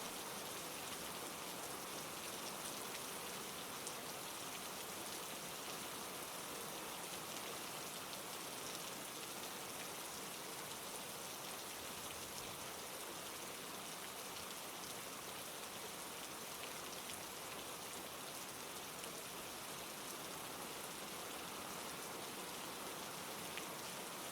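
Steady rain falling at night, a dense, even hiss of drops on surfaces that continues unbroken and alone for the whole stretch.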